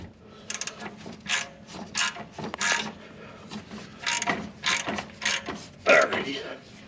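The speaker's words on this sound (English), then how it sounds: "you just put your 3/8 ratchet on it and just tighten it way out." A 3/8 ratchet clicks in short bursts while turning a pulley puller on a Chevy Express engine during an oil pump install, close and moderately quiet, with sparse pauses between the strokes.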